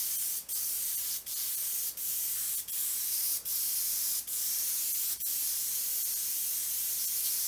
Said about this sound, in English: So now I'm gonna try to spray mostly either straight down this way or at an angle this way.